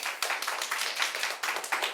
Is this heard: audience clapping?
yes